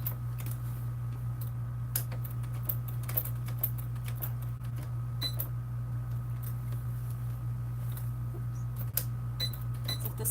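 A sewing machine back stitching a seam on a Swoon Maisie bag, a quiet steady mechanical hum with a soft run of clicking ticks over it.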